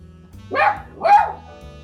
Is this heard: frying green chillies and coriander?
no